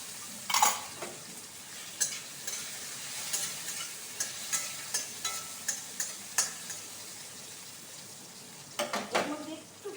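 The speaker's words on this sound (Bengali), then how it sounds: "এরপর এতে আমি এই যে টমেটো কুচি দিয়ে দিচ্ছি।" Chopped tomato hits hot oil with cumin seeds and bay leaf over a low flame, giving an opening burst of sizzle followed by a rhythmic run of spatula stirs and scrapes, with a brief crackle near the end.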